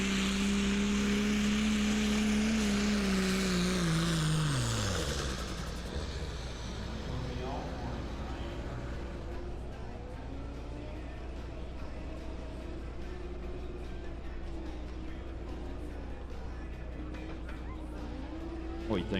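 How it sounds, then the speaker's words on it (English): A Ram pickup truck at a truck and tractor pull in Mexico, Missouri, its engine roaring loudly with a falling whine early on, then a steady heavy drone as it pulls, heard from a distance with some voices. "Pulling a Ram truck that he calls Unashamed."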